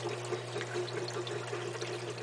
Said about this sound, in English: water is automatically going to start flowing back through the overflow and down into the first chamber